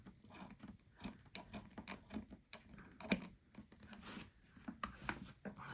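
A flathead screwdriver scrapes old adhesive tape inside an iPhone during a battery replacement, giving close, quiet, irregular scratchy clicks and rasping strokes in quick uneven bursts.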